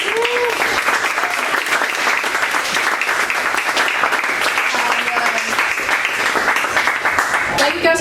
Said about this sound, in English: Another round of applause for Kayla for an awesome talk